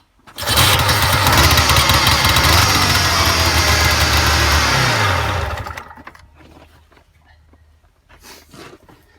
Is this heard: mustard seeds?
no